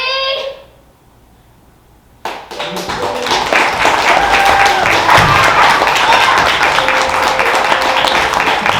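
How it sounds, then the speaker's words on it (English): After a brief quiet pause, an audience at a comedy class showcase bursts into loud, sustained applause, dense clapping with a few scattered cheers carrying on to the end. "One more round of applause for that."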